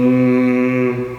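A human voice imitates the buzz of a female bee from Central Europe, a steady droning hum held loud and close for about a second before tapering slightly.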